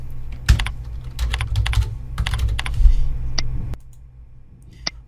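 Keys clatter on a computer keyboard during data entry into an office form, in quick, close bursts of clicks that give way to a couple of isolated taps near the end, with no voice.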